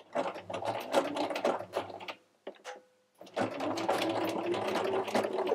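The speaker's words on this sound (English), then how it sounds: "We're just going to go ahead and continue to top stitch" Sewing machine topstitching microsuede fabric for a doll leather jacket or skirt, a fast close mechanical whir in two long runs separated by a brief pause with a small click, no talking.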